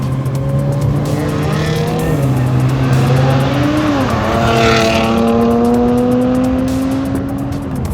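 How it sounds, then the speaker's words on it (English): A Jaguar XE S sports sedan's supercharged 3-litre V6 revs hard through rising gears in sport mode, a loud continuous roar climbing in pitch with each shift, heard from inside the car. "how responsive that supercharged 3-litre V6 is"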